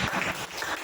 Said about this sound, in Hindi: ताली बजाओ ना एक बार।